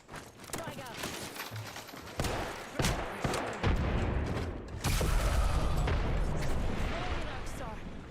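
Frag grenade thrown and detonating amid Apex Legends combat, heavy booming blasts and gunfire-like bursts building from about two seconds on, loud and close, with shouting voices over the din.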